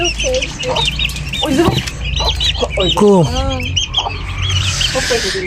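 Chickens cluck in a village setting, several close, loud clucks and squawks mixed with other fowl calls and people talking nearby.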